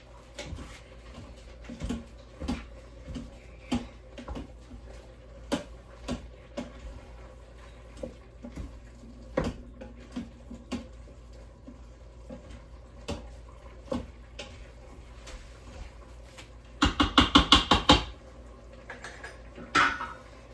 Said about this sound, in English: we're going to just stir it very well